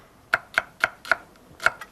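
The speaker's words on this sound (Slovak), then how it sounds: "cibuľu si najprv prekrojím a obrátim a nakrájam na prúžky" A knife slicing an onion into strips on a cutting board: five crisp, evenly spaced chopping taps, close and clear against a quiet background.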